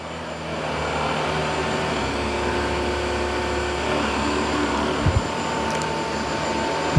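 A Dyson 360 Vis Nav robot vacuum cleans a room with its big brush roller, giving a steady, close broadband whir that holds evenly throughout, with a couple of brief knocks near the end.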